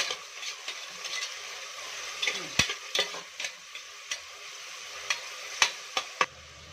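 Sliced onions and tomatoes frying in a pan for green peas pulao, stirred with a utensil that gives sharp clacks and scrapes at irregular intervals over a continuous hissing sizzle, close, with no talking.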